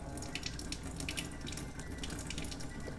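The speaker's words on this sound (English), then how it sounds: "Anytime you go from a sanitizing water back to a drinking water, it's going to clean itself." A K8 Kangen water ionizer runs its self-cleaning cycle, sending a steady, continuous stream of water through the unit. The flow is a moderately quiet, even hiss and splash that carries on without pause or speech.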